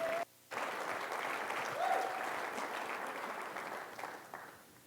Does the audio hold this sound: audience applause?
yes